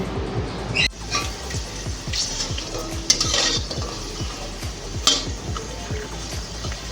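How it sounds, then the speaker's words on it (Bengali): Papad frying in white oil in a kadai, a continuous sizzle broken by repeated scraping and stirring strokes of a utensil against the pan, with a few sharper clinks; close and fairly loud, no talk. "কয়েকটা পাঁপড় ভাজা করে নিচ্ছি"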